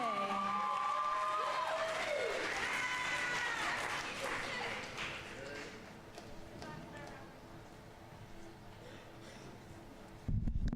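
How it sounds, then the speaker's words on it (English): Students at a high school poetry slam applaud and cheer as the first poet is introduced, a loud crowd roar with whoops that fades into scattered claps and murmuring, then a brief loud burst at the end. "please give them a nice round of applause"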